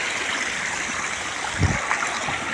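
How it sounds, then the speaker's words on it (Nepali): Monsoon rainwater rushes in a steady stream that floods a maize field. The flow is close and continuous, with a brief low splash or gurgle near the middle. "पानी यस्तो कुद्न थाल्छ त"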